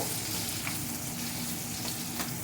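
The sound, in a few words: chopped onion frying and being stirred in a pan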